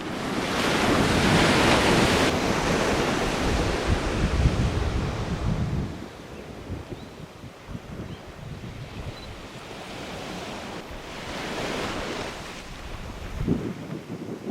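Surf washes steadily onto Espumilla Beach on Santiago Island in the Galapagos, with wind buffeting the microphone; loud broadband rush for the first six seconds, then softer waves and gusts that swell again near the end.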